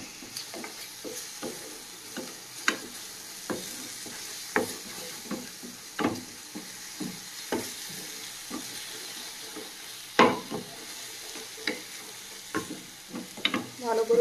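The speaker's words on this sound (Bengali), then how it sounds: "ভালো করে ভেজে নেব।" Koi fish masala with turmeric, coriander and Kashmiri chili powder frying in a pan: a continuous soft sizzle broken by repeated sharp scrapes and clinks of stirring, close and alone without voices.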